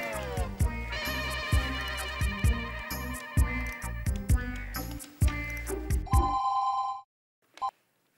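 A musical phone ringtone on an incoming call plays a bouncy melody over a thumping beat, then cuts off, followed by a short single beep.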